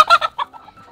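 Backyard chickens give a quick burst of close, loud clucks, three sharp calls followed by softer trailing clucks.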